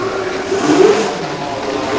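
A Renault Formula 1 car with a turbocharged 1.5-litre engine at the 1980 British Grand Prix gives a steady, fairly loud engine roar that swells briefly near the middle before settling back to a sustained drone.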